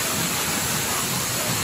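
Sprite Falls, a waterfall in Majayjay, Laguna, pours in a steady broadband rush of water, loud and continuous throughout, with faint voices mixed in beneath the roar.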